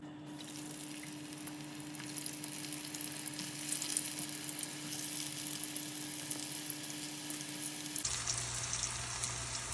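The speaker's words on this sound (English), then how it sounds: "we're just frying our potato skins in our 375 vegetable oil" Potato skins frying in 375-degree vegetable oil, a steady bright crackling sizzle that holds for several seconds, with a low hum underneath that cuts out near the end as the bubbling continues.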